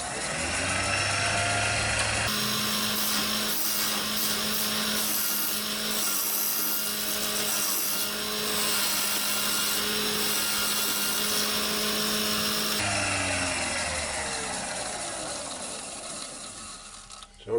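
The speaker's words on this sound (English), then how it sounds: "So I'm just using my scraper now" Steady, continuous whirring hiss and scrape of a scraper taking finishing cuts on an ash bowl turning on a wood lathe, loud and close with a hum underneath, no talk.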